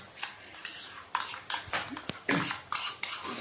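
A spoon scrapes and clinks against a pan as a freshly ground paste of green chilli, cumin, garlic and ginger goes in for a chicken curry, a series of close metallic taps and scrapes.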